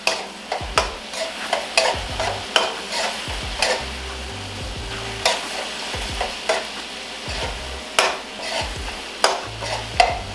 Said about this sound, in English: I'm going to go in with my flour, and just a little bit at a time